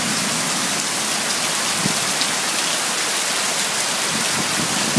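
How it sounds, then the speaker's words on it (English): Heavy rain pours down at Cosmos in Negril, a loud, dense, unbroken roar of drops hitting surfaces close by, with occasional low thumps beneath and no voices. "Wow, this is serious rain, baby."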